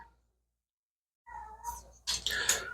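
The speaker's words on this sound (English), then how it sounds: "So I got kitties crying in there." Indoor house cats crying and meowing: after a second of silence, a drawn-out plaintive meow, then a louder, harsher yowl, close by with no talking.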